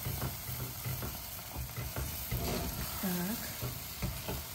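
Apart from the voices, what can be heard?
stirring choux dough of flour, water, milk, butter in pot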